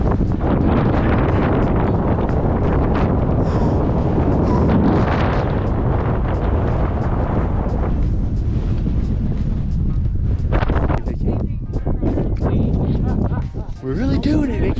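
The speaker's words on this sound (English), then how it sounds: "It's really windy." Strong wind roars and buffets the microphone on the summit of Mt. Sherman, a loud continuous rush with gusty surges, while voices talk briefly underneath.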